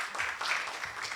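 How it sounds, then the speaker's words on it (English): An audience at a downtown community meeting gives a short burst of clapping, brief and moderately faint. "give her a big round of applause"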